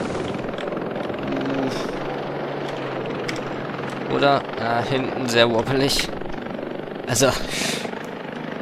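A Bell 407 helicopter in BeamNG Drive flies with a steady, loud rotor and engine drone, while someone talks over it throughout.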